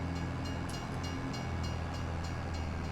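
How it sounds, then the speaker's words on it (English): A train rolls past in Farming Simulator 25, a steady low rumble of wagons with faint rhythmic clicking, continuous and moderately near, with no talk over it. "when the train went past"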